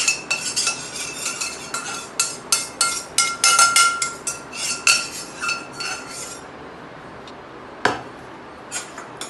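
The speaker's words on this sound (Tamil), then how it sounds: "இதை ஒரு தட்டில் கொட்டி ஆற வச்சுக்கோங்க." A roasted chocolate fudge mixture is scraped from the pan onto a plate with a metal spoon. A quick run of sharp clinks and scrapes sounds close by, then it falls mostly quiet apart from a few later taps.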